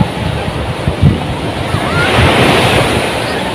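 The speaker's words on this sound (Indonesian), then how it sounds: "kali ini teman-teman kita rasakan eloknya Pantai Drini di Gunung Kidul" Ocean surf rolls steadily onto Drini Beach in Gunung Kidul while wind buffets the microphone, making a constant broadband roar that swells slightly louder in the second half.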